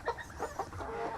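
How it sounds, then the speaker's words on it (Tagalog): Chickens cluck softly in a chick brooder holding about fifteen birds, overlapping short calls and peeps at close range over a steady background hum. "Tanawon pa mo sa mga manok nato diri"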